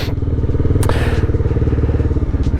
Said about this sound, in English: So when I turn my bike to do my left turn